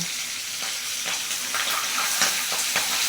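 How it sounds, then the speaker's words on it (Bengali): Singhi and magur fish fry in hot oil, a dense, close, continuous sizzle with faint crackles and pops scattered throughout. "এই যে ফাটছে হালকা হালকা মাছটা ফাটছে"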